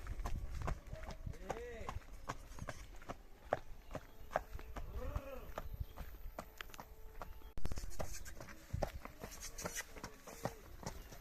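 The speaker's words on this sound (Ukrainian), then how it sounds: "Ну величезна кобила." Hooves of a huge Belgian draft mare clip-clop on hard ground in an irregular walking rhythm, close by and partly under people talking and calling out.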